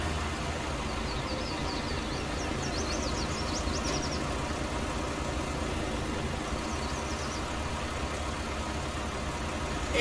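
A tractor engine idles steadily in the Farming Simulator 19 video game, a constant low mechanical drone with no variation, with faint high chirps briefly above it.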